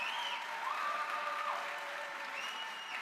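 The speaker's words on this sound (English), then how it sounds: "Could we please get another round of applause for our speakers?" Audience applause at a UMass campus speaking event with a panel, a steady even wash of clapping held throughout at moderate level with no talk over it.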